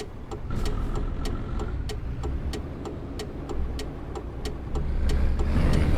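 Car engines and road traffic in a driving video game, a steady mid-loud engine drone with passing vehicles and small clicks, swelling louder toward the end.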